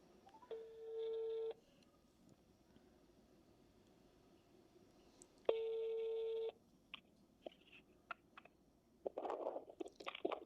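A telephone call being placed: two long ringback tones about four seconds apart, clear and fairly loud, followed by scattered clicks and handling noises and a burst of rustle at the end.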